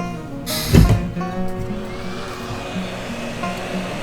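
Steady whooshing roar of a heat gun warming the charging port of a Nintendo Switch Lite, close and continuous, with a brief thump of handling early on; no speech.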